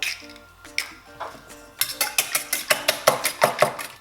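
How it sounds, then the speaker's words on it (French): Eggs are whisked in a bowl for a creamy caramel dessert, a rapid regular clatter of the whisk against the sides that starts loosely, then settles into a brisk, even rhythm of close, bright clinks. "je vais casser mes œufs que je vais mélanger dans un premier temps"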